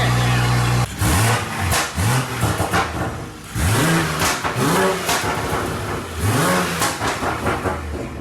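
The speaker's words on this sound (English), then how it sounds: "I can't believe that exhaust sounds so good" A car engine revs hard through a custom exhaust, loud and close, in repeated rising-and-falling bursts with brief pauses between throttle blips.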